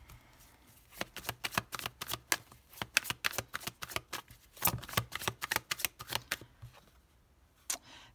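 Tarot cards shuffled close by, quick bursts of riffling snaps and flicks in uneven runs with short pauses, quiet and without voices.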